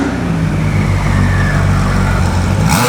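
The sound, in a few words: Porsche Carrera GT engine as it pulls up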